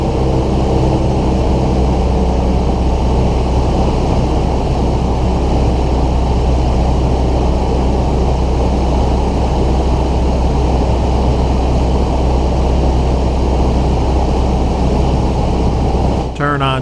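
A light aircraft's engine drones steadily at reduced throttle during a descent with carb heat applied and flaps extended, loud and constant with a low hum, and a brief change comes right at the end.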